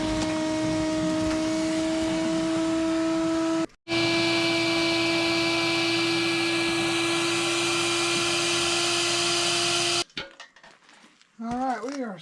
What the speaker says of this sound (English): we're gonna go get the vacuum out and vacuum this mess up